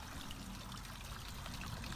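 An aquarium power head churns water in an outdoor coral frag tank, producing a steady, close trickling and gurgling wash that holds at an even level throughout.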